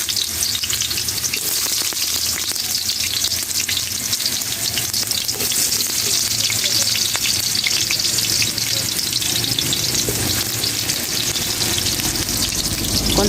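Adobo with potatoes frying in a little oil, a loud continuous sizzle with crackling spatter and occasional stirring scrapes throughout, no talking.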